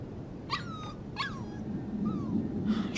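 Puppy Mushroom in Life Is Strange 2 gives several short, high whimpering yips spaced about half a second apart, faint over a steady low background hum.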